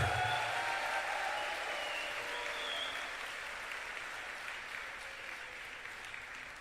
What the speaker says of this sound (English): You have to stand up and give a loud, loud, loud applause